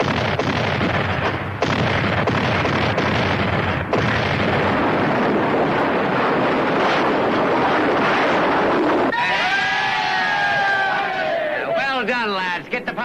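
Cannon fire aboard a sailing warship in a 1973 naval drama, a dense, continuous roar of booming blasts with shouted voices over it, ending in a shrill, sweeping tone near the close.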